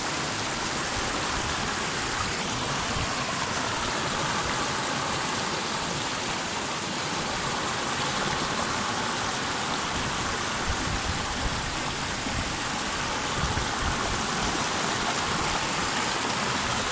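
River water rushing down strongly on a hiking route, a loud, steady broadband roar of flowing water that continues unbroken, with no voices over it.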